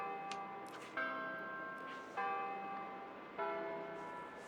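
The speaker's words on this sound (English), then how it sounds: "I used to always think that it was the clock tower making that noise, but now I just learned that it was the castle that was chiming" Castle bells chime in the Disney Dreamlight Valley video game, with four clear strikes about a second apart. Each ringing tone overlaps the next above a steady ambient bed, and no one speaks.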